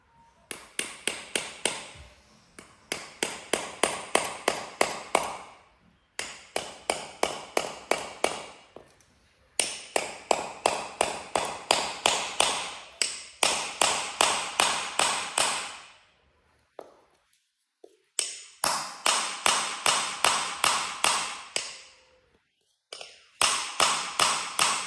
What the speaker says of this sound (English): Right hammer time. Let's get this bitch pin back in.